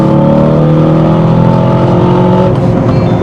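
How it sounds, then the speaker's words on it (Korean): An Aston Martin DBX707 SUV's exhaust hums loudly and steadily from inside the cabin while driving, a low droning tone with slowly shifting pitch that eases slightly near the end. "이 차는 제가 아까부터 느꼈는데 통상적인 고성능 차의 배기음과는 소리가 좀"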